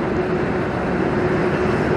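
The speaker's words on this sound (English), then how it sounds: "It's the Lake State Railway over there coming out of the paper mill." A Lake State Railway freight train pulls out of a paper mill, a steady low rumble and drone heard from a distance with no distinct clanks.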